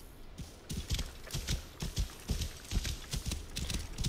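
Horse hooves clip-clop at a steady walking rhythm in the video game Assassin's Creed Origins, each close, crisp strike sounding clearly and evenly over a faint ambient bed.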